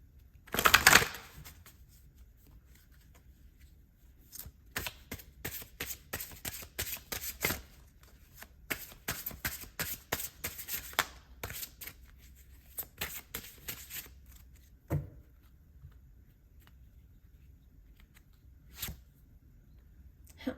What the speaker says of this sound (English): So let's pull some final cards here for your message.